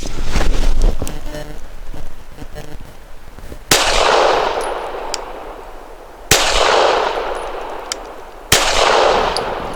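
Walther Q5 Match steel-frame pistol firing PPU 158-grain subsonic rounds at an outdoor range: three sharp, fairly soft reports spaced a couple of seconds apart, each followed by a short decay, preceded by faint handling noise.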